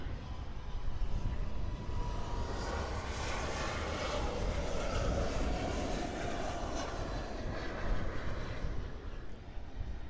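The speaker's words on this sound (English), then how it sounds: "And that was American Airlines 1154 about to touch down" An American Airlines Boeing 737 MAX 8 from Santo Domingo comes in to land at Miami International Airport, its jet engines producing a loud, continuous broadband roar that holds steady for the whole span, with no speech.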